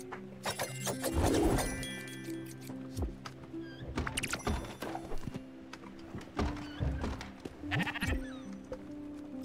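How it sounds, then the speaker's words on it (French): Sheep bleat repeatedly in the game Spiritfarer, short quavering calls scattered over a gentle music bed, with soft thunks and taps between them. "Tondre les moutons."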